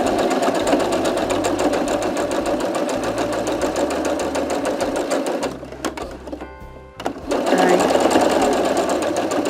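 A sewing machine stitches a round crochet cushion, its steady rapid whir running loud and close, easing briefly near the end before resuming, while a voice speaks a word.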